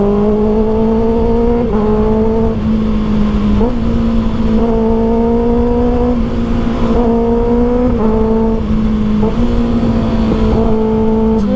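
A 2024 Kawasaki Ninja ZX6R engine revs hard and loud, its high-pitched whine climbing steadily with brief dips between gear-like pulls, sustained and close throughout with no talking.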